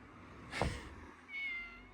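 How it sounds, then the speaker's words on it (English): A cat on a street in Uwajima, Japan gives one clear, fairly close meow, followed by a softer, drawn-out second call. "And here is cats. I think it's someone's."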